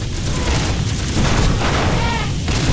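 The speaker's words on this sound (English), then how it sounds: "I'm getting hit in the face with cannons." Cannon fire pounds an elephant in the video game Super Elephant Battle, a dense, continuous barrage of booms and blasts running loud throughout without pause.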